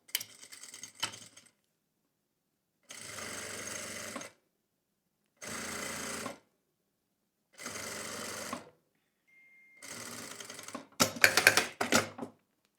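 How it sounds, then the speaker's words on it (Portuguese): A sewing machine stitches lace trim along the edge of fabric for a zippered cosmetic pouch, running in four or five separate bursts of steady mechanical whirring, each a second or two long, with short silent pauses between. "vou costurar bem na margem para conseguir ficar com esse efeito"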